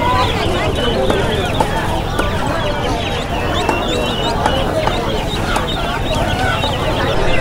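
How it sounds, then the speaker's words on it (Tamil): Country chickens at Ponmalai market cluck and chatter constantly nearby, with sharp bursts of clucking over a dense, busy market din and people talking throughout. "இங்கேயும் வந்து நாட்டுக்கோழி இது எல்லாமே. ஸோ நாட்டுக்கோழி நிறையா வச்சுருக்காங்க இங்கே."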